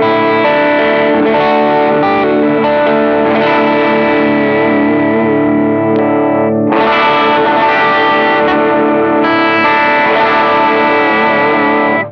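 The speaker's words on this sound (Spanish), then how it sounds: "Entonces Morning Glory en conjunto con el Messner suena así." Electric guitar fed through a JHS Morning Glory overdrive and a Messner pedal, sustained driven chords with a thick, saturated, slightly chorused tone, loud and continuous with a brief break midway, no voices.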